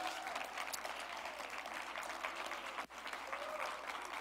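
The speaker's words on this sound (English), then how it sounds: "Cindy, yeah, you can clap for Cindy." A church congregation applauds a retiring treasurer, steady dense clapping filling the room throughout, with a brief dip near the end.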